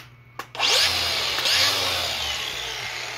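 A power drill bores new holes during a weed wacker repair, whirring loudly and steadily for about three seconds after a brief click at the start, close up with no talking.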